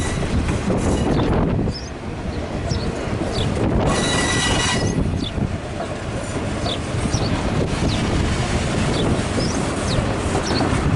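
A broad gauge grain train rolls past at Geelong, loud and close, its wagons rumbling steadily with rhythmic wheel clatter and thin squeals from the wheels over the whole stretch.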